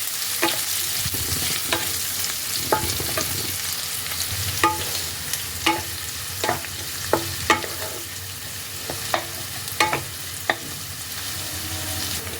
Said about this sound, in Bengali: এবার আমি এর মধ্যে দিয়ে দিচ্ছি পেঁয়াজ কুচি। এখানে আমি একটা বড় সাইজের পেঁয়াজকে ভালোভাবে কুচি করে নিয়েছিলাম। এটাকেও এবার ভালো করে ভেজে নিতে হবে।